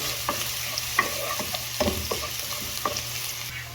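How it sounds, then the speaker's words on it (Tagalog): Garlic sautéing in a pan gives a constant sizzle, with a few scrapes and taps of a spoon stirring through it. No one speaks. "Let's saute garlic until golden brown."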